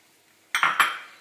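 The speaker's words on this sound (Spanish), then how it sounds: "echamos todas las cáscaras" Shrimp shells tossed into a pan of hot oil on the stove for a Christmas fish soup: a sudden clattering drop, a second quick tumble, then a steady close sizzle.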